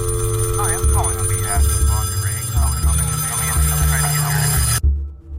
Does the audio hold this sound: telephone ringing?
yes